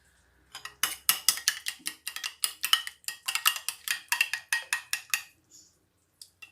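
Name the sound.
whisking yogurt into jalebi batter in a bowl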